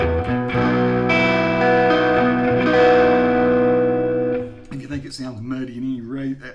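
Squier Classic Vibe 60s Jazzmaster electric guitar played through overdrive, a sustained distorted chord ringing loud and close for several seconds before a short wavering, warbling phrase of notes, with no talking.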